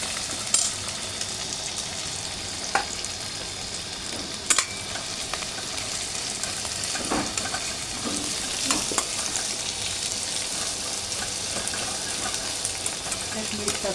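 Sliced onions sizzle steadily in a pan while being stirred with salt for a simple veg pulao, with occasional sharp scrapes and clinks of the spoon against the pan over a constant frying hiss.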